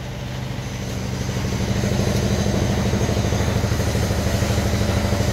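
A palm oil processing machine driven by a small 5.5 hp petrol engine runs steadily, building from a low start into a loud, continuous, rapidly pulsing engine drone with no talking.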